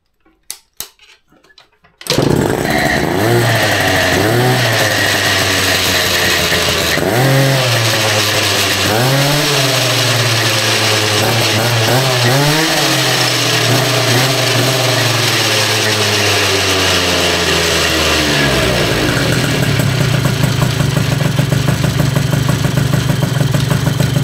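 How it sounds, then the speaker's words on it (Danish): Yamaha Jog R scooter engine with a Malossi 70cc sports kit fires up after a few short cranking bursts, then runs loud and close with a raspy two-stroke buzz, revving up and down repeatedly before settling into a steady fast idle. "Så nu skal vi lige se motoren i gang."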